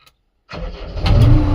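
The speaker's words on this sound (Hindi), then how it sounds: "तो हम सबसे पहले गाड़ी ऑन करते हैं।" A JCB backhoe loader's diesel engine cranks and catches after a short silence, then settles into a loud, close, rumbling idle that swells slightly.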